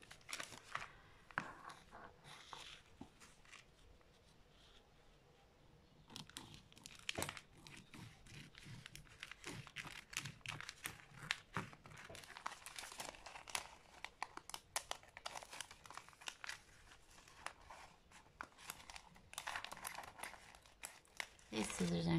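Dull scissors chop and crunch through two layers of paper in repeated short snips, mixed with crinkling and rustling of the sheets; a person speaks softly at times, close and quiet.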